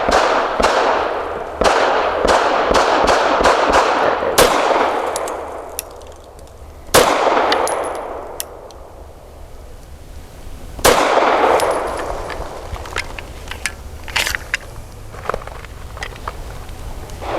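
FN 509 Midsize pistol firing 124 grain import ammunition outdoors, a quick string of sharp loud reports with ringing decay, then spaced single shots and a faint metallic ping of steel targets.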